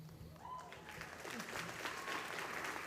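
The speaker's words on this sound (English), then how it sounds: "Let's give Anaya and Carmen another hand." Audience applause at a high school graduation ceremony, a steady wash of clapping from a large crowd that holds through the whole stretch, with faint voices mixed in underneath.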